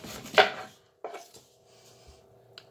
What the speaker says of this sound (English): you're going to cut off this part of the onion